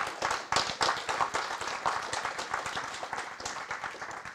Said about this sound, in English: If you didn't like it, you can still clap.